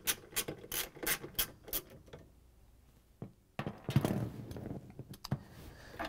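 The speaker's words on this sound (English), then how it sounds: "Then we're going to use the 3/8 inch socket again with the ratchet and the extension to take off the bolts." A 3/8-inch socket ratchet with an extension backs bolts out of a GE washing machine transmission assembly: several rapid bursts of close, crisp clicking, a quiet pause, then more ratcheting and handling clatter.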